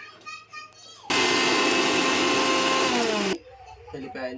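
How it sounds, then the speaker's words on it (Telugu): A mixer grinder grinding chillies roars loudly for about two seconds, a steady whirring grind, with a voice and talk before and after. "ఈ మిరపకాయలను అయితే మళ్ళీ మిక్సీ పట్టేస్తున్నాను"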